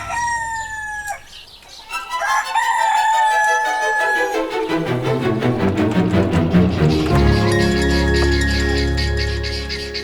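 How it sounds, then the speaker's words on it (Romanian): A rooster crows loudly and close by, one long cock-a-doodle-doo followed by further crowing and clucking from farm fowl, with no talk. "Oamenii când aud cocoșul știu că deja e vremea de trezire"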